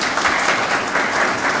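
An audience at a sports award ceremony for the year's best athletes gives dense, continuous applause, loud and even throughout the brief moment.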